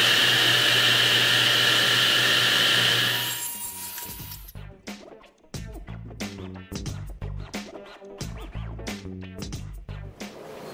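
Power saw trimming a thin sliver off a clamped wooden board for a farmhouse end table, a loud steady whine for about three seconds that cuts off, followed by scattered clunks and knocks of wood and tools.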